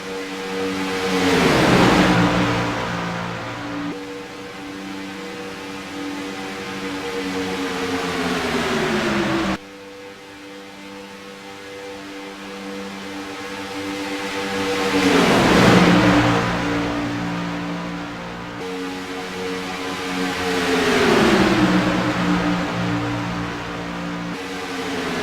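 Stock cars roar past the start-finish line at Daytona International Speedway in repeated loud pass-bys, each engine note rising then sweeping down in pitch, with a steady drone of engines between passes and no talk.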